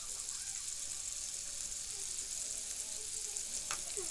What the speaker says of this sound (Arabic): هنقلب البصل والفلفل مع بعض.